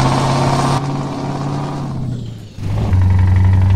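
A Scania V8 truck engine in Euro Truck Simulator 2 rumbles loudly and steadily, with a short dip in tone before it revs back up to a strong, sustained drone.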